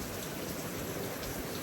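Steady rain falls over a farm field on a sunny day, a dense, even hiss of drops that stays loud and constant throughout with no pauses or voices.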